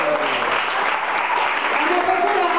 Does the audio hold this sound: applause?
yes